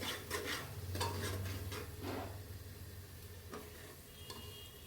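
Ground masala for an aloo matar curry being stirred in a cooking pan, a continuous soft frying hiss with repeated scraping strokes and faint utensil clinks, close and fairly quiet, no voices.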